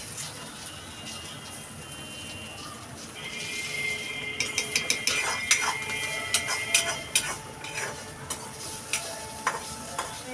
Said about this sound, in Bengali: আমার আলুর খোসা ভাজাটা হয়ে গেছে